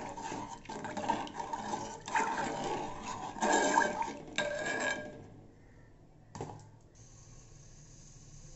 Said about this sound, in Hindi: पानी डालकर इसे चला लेंगे।